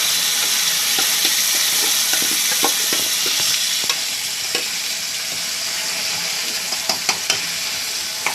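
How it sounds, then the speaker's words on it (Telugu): Blended tomato chutney sizzles loudly as it is stirred into a hot oil tempering, a steady close-up frying hiss broken by scraping spoon clicks against the pan. "ఆ పచ్చడి అందులో వేసేస్తున్నాం తాలింపుల్లో."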